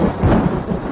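A steady wash of heavy rain mixed with a deep rolling rumble of thunder fills the whole moment, dense and close, with no voices over it.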